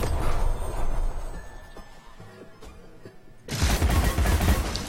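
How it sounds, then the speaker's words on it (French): Rapid gunfire in the video game Alice: Madness Returns while shooting at gnomes. A dense, loud burst opens the clip, fades to quieter scattered shots, then a second heavy sustained barrage erupts near the end. "Je tire sur les pieds, il a pas de bouclier sur les pieds"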